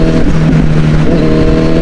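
Four-cylinder car engine at full throttle, a loud, close, droning engine note with pulsing tonal harmonics that dip and rise as revs shift, no talk over it.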